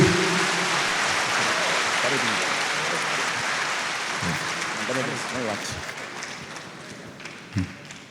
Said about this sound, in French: Il faut les applaudir très fort, mesdames, messieurs